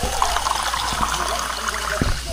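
Water pours steadily into a pan of corned beef on a home stove, a continuous close trickle and splash with faint clinks underneath.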